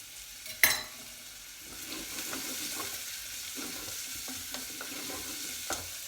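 Sliced Spanish onion and garlic cloves hitting a hot pan, opening with a sharp clatter as they drop in, then settling into a steady, moderate sizzle with occasional crackles.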